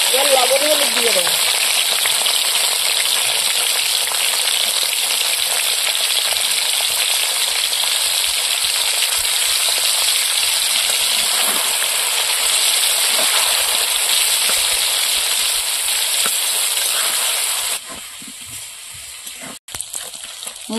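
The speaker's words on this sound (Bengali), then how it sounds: "এবার লবণ হলুদ দিয়ে দেবো।" Potatoes frying in oil with salt and turmeric added give a continuous close sizzle for most of the stretch, then it drops off abruptly near the end, leaving a few faint clicks.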